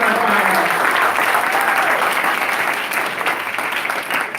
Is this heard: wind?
no